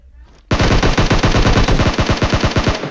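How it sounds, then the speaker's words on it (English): Rapid automatic gunfire from the battle royale game PUBG, loud and close, with a dense burst of shots starting abruptly and continuing without a break to the end. "Oh, he's shooting me."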